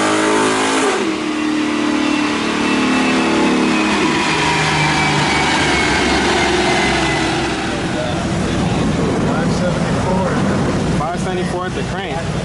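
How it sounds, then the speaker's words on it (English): A camshaft-upgraded Chrysler SRT8 engine revs hard and loud on a dyno, rising and falling through repeated pulls, with a steady mechanical roar throughout and some voices underneath. "I'll show you videos of modern cars dynoing"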